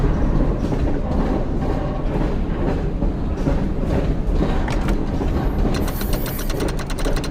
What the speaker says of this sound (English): Oh god, the train's moving.